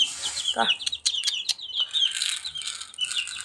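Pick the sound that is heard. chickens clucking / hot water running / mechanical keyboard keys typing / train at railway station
chickens clucking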